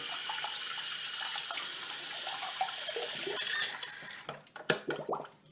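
Steady running tap water rinses soap off cleaned parts of a Noisy Cricket, a continuous close hiss that gives way near the end to a few sharp clatters and knocks as the parts are handled.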